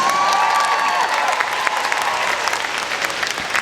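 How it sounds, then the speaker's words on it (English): Sustained applause from a convention panel audience at a fan expo, dense and loud throughout with crowd noise mixed in. "Give her a round of applause."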